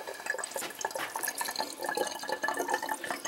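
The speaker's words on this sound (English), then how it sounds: "the water line spilled" Water spraying and spilling from a fridge water and ice maker line during installation, a busy, close splashing and dripping patter that runs steadily through the short stretch with no voices.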